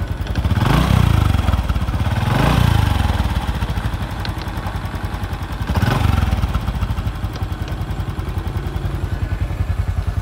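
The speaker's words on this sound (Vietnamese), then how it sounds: "Tiếng máy nghe rất là khỏe." A 2008 Honda Future Neo Fi motorcycle with a stock engine and warmed-up oil idles steadily nearby, a loud, even, fast putter with slight swells in intensity throughout and no talking.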